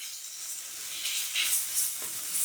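Ground pork, about 150 grams, added to a pan with onion and curry seasoning, sizzles in a steady bright hiss that swells a few times, close and alone with no voices.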